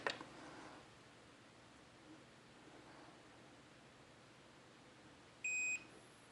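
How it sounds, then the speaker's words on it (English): A single short electronic beep from a 70mai dash cam battery pack starting to charge sounds near the end, clear against a quiet hiss of background noise. "hear that beep? That lets you know it starts charging."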